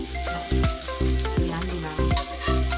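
Chicken frying in a hot pan for an Indonesian rendang curry, a steady loud sizzle broken by repeated scraping stirs at a regular pace, close up with no talking.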